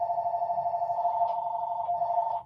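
A telephone rings in a steady, continuous electronic warble, close and clear, with no voices over it.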